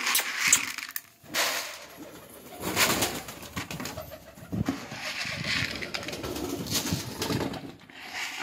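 Pigeons coo steadily as grain is scattered for them, the soft, throaty calls overlapping close by with faint rustling and occasional wing movement.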